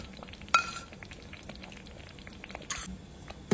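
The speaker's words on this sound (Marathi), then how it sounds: "हे आता हांव नारियल तेल घालता." Coconut oil goes into a frying pan with a faint sizzle and a couple of sharp metallic clinks from utensils, quiet and close.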